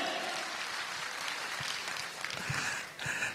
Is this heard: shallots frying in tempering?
no